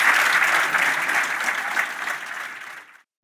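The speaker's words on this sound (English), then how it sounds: "a huge round of applause to Fiona, to Maggie, and to Jen as well" An audience applauds at the close of a rugby preview show, steady loud clapping that gradually thins and fades out after about three seconds.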